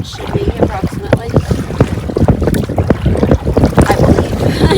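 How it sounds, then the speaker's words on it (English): Strong wind blowing at a lakeside campsite, loud buffeting gusts hitting the microphone in continuous uneven bursts with deep rumbling, no voices. "It is super windy out here on this campsite."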